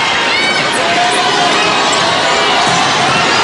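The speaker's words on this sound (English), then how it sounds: "And the crowd really into it now" A loud, dense crowd cheers and shouts continuously at a UAAP women's volleyball match between La Salle and FEU, with voices and possible footsteps and ball sounds underneath the roar.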